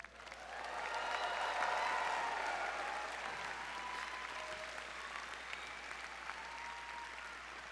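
Crowd of master's graduates at a 2022 commencement ceremony in a large hall, clapping and cheering in sustained applause that swells in the first two seconds and then holds fairly steady.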